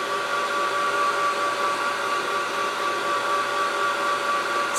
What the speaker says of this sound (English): grab your heat gun and dry off that area